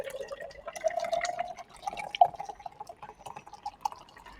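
No-alcohol nitro beer is tipped out of its can into a pint glass, a continuous trickling pour with bubbling and splashes over several seconds, fairly close and with no talk.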